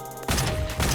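Gunfire from Nikke: Goddess of Victory, a short loud burst that bursts in abruptly after a quiet game hum and stays dense for under a second.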